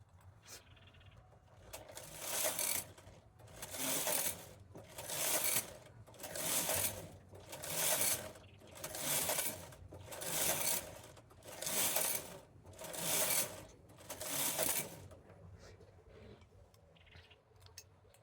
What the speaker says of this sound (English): So I'm going to knit 10 rows right now.